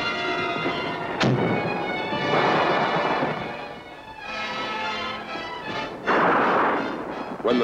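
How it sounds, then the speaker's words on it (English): Heavy artillery fire from the big guns of the 4th Infantry Division in Vietnam, with loud booming blasts and rolling rumble, a sharp report near the start and another heavy burst late on. "Then the big guns of the 4th were called in for support, and the heavy lead began to fly."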